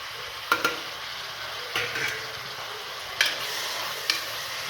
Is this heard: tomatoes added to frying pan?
yes